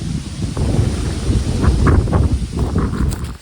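Wind sweeps across a rocky mountain ridge at Wind Rock, a loud, steady roar that buffets the microphone in broad gusts, with no voices.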